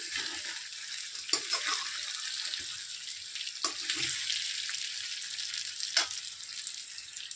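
Masala frying in a pan for chicken curry, a continuous close sizzle and hiss with occasional scraping and stirring knocks, and no one talking.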